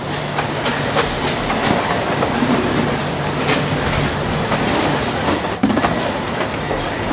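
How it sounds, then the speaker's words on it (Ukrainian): Boxes roll along a warehouse conveyor in a sports-nutrition distribution centre, a continuous loud clattering rumble with repeated rhythmic knocks of rollers throughout, no voices. "Ця коробочка їде з суми до Дмитрія Борисова."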